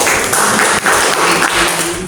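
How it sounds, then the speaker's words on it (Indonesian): Audience applause fills a hall at an evaluation and scheduling event at an Indonesian training centre: a dense, steady wash of clapping that holds loud for about two seconds with brief dips. "Tepuk tangan untuk kita semua."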